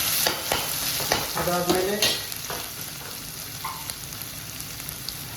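Cashews frying in a pan for a paneer butter masala sizzle as a spoon scrapes and stirs them in several quick strokes, then the sizzle settles to a steady, softer crackle while a voice says a brief word.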